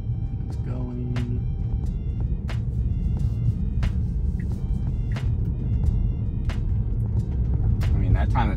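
A truck passes through a suburban roundabout, heard from inside a Tesla in driver-assist mode as a steady low rumble of traffic and road noise, with sharp clicks recurring and someone talking throughout.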